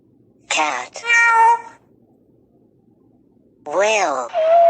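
A cat lets out two close, clear meows in quick succession, falls silent, then gives two more drawn-out, wavering meows with rising and falling pitch.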